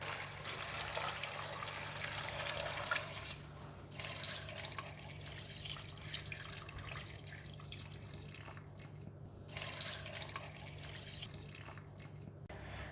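About 3.5 liters of water pouring into a stock pot for homemade vegetable stock, a quiet, continuous splashing rush that briefly pauses and resumes.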